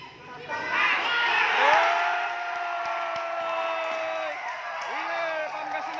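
A crowd at a basketball shooting money game shouts and cheers after the win, rising into a loud, sustained roar that includes children's high-pitched yells. A whistle-like tone glides underneath, and the excitement stays steady through to the end.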